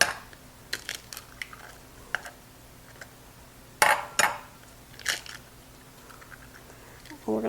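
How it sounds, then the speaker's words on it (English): Two eggs crack into a bowl with sharp, brief taps and clicks against the rim, scattered across the clip, faint and close in a quiet kitchen. "We're going to crack 2 eggs into our second bowl."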